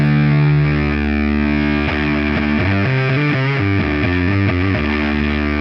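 Heavily distorted electric guitar on the bridge pickup with no octave effect, a loud sustained low chord followed by a quick run of chugging notes stepping up and down the lower register, played alone.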